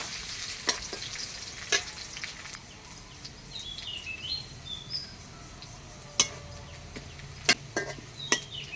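Tilapia fish frying in oil in a village kitchen, a low, continuous sizzle with sharp spatter pops and stirring clicks, faint bird chirps in the background.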